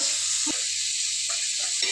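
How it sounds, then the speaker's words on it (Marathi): Capsicum roasting with a little oil on a hot tawa griddle gives a steady, close sizzling hiss, with a few soft clinks and stirring sounds and no voices. "इथे आम्ही तवा ठेवलाय. त्याच्यावरती शिमला भाजून घेतोय थोडी."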